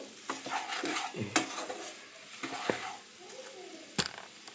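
A mustard and poppy seed paste is stirred and fried in a pan, with soft sizzling under uneven scrapes and clicks of a spatula against the metal, quiet and close.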